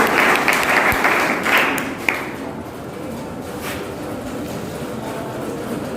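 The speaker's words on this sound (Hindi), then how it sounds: "जोरदार ताली से।" Loud applause from a seminar audience in India at a talk on the harms of plastic: brisk, dense clapping for about two seconds, then fading into low, steady room noise.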